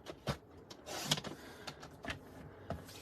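Paper being trimmed for a handmade card with a trimmer, giving several short scraping slides and clicks in an uneven rhythm, close and fairly quiet with no talking.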